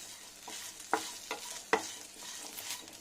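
Poppy seeds, small shallots and grated coconut sauté quietly in hot oil, a soft sizzle broken by a few sharp scrapes and clinks of a spoon stirring the pan.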